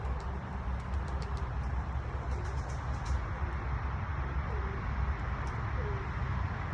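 Pigeons coo softly in the open air over a steady low outdoor rumble, with faint bird chirps scattered above and no clear talk.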